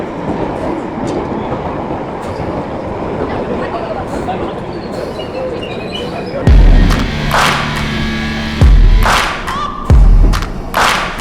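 A London Underground train runs with a steady rumbling roar. It then gives way to loud, close thumps and clattering wheel beats as the carriages pass over rail joints, and voices are faintly audible.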